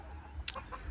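Rooster giving a brief cluck-like call, a short bright burst followed by a couple of softer notes over low background rumble, fairly close.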